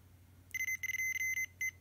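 A Fluke 110 multimeter's sharp, high continuity-test beep sounds in several short bursts of varying length, close and clear over a faint background hum.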